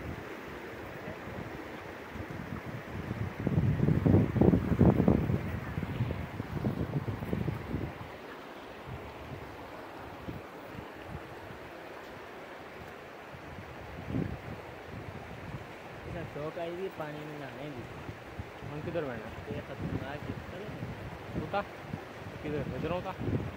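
Fast, muddy water rushing in the rain near a village, a broad continuous roar with a louder surge early on, and people talking over it later.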